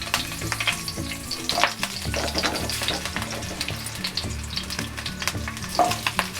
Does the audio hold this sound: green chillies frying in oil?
yes